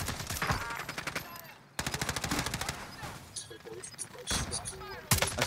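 Rapid bursts of automatic gunfire from an LMG and other weapons in Call of Duty Cold War Warzone, loud and close, with a brief gap before the firing resumes in dense rattling strings.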